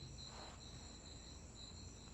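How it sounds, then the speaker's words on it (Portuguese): A cricket chirps outdoors beside a modern house, a steady, faint high trill pulsing continuously with no voices. "Ah, Thales, é grilo"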